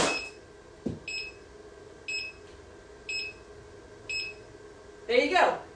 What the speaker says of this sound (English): So when he falls over on his own, he does 5 beeps and then stops.